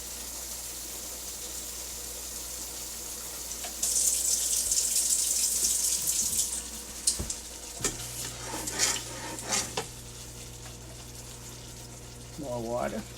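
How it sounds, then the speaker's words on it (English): Water runs from a tap and pours into a pan of liver gravy on the stove, with splashing and a faint sizzle, then clinks and stirring sounds in a kitchen. "And more water. It depends on how thick you want your gravy."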